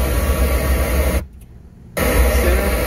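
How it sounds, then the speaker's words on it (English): Pink noise test signal from a car audio test disc plays as a steady, loud broadband hiss, cutting out briefly near the middle before resuming. "Pink Noise sounds like it's coming from here."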